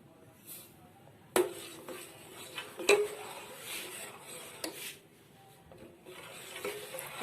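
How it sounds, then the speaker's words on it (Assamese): Spoon stirring rice pudding (payas) in a pot, with faint scraping and a couple of sharp clinks of metal against the pot, quiet and intermittent. "আপোনালোকে এনেদৰে লাৰি থাকিব"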